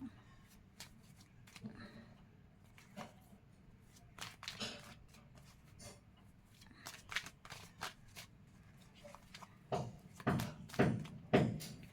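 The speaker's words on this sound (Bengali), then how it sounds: "মিথুন রাশির কার্ড সাফেল করতে কেন জানি না অনেকটা টাইম লাগছে" Tarot cards being shuffled by hand in repeated bursts of soft riffling and slapping, louder toward the end, with a voice talking intermittently underneath.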